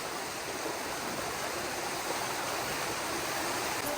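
Flowing stream water at a bathing spot, a steady, dense rushing wash that stays constant throughout, fairly close and alone with no voices.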